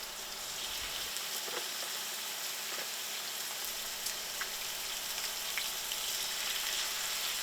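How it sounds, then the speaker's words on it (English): Boneless short ribs searing in a hot pan, a steady close sizzle and fine crackle that holds even throughout with no talking. "So let's get our boneless short ribs in the pan."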